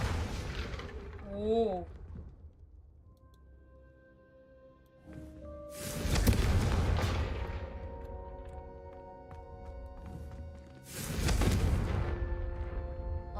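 Confringo fire spell blasts in the Hogwarts Legacy video game, two loud booming bursts with crackling fiery tails, separated by a few seconds, over game music with a brief spoken exclamation.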